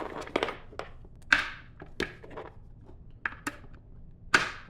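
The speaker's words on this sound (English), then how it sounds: "attach the caster wheels to the base just by pushing them in" Plastic caster wheels pushed by hand into the base of a Serta Smart Layers Brinkley executive office chair, giving a string of sharp, close knocks and snaps at uneven intervals, with no talk.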